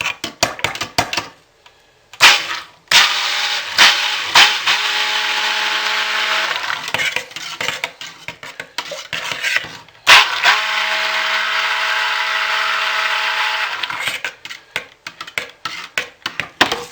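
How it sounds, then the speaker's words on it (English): A stick blender mixes a fragranced soap batter in sustained steady bursts, loud and close, with brief pauses and clicks between runs. "Barely hit it with a stick blender."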